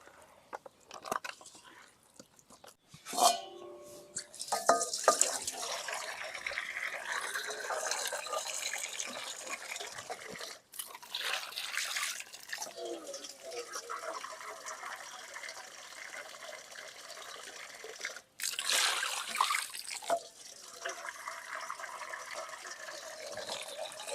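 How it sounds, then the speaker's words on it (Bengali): Cut pieces of rohu fish are rinsed under running water in a rural kitchen, with splashing and gushing that comes in bursts. Brief clatters and gaps break the flow. "মাছ খুব সুন্দর করে ধুয়ে নিছি"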